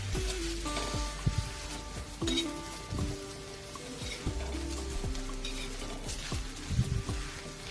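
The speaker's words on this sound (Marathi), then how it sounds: "थोडासा आपल्याला तव्यावर असा उलटसुलट करायचा आहे" Wild monsoon greens are stirred and tossed on a hot griddle, with soft sizzling and repeated scraping and clinking of a utensil against metal.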